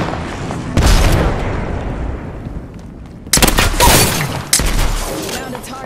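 A game of Apex Legends fills with loud, close bursts of rapid gunfire and heavy booms, including a grenade blast. Sharp volleys break out, fade into a ringing tail, then return in two more heavy bursts.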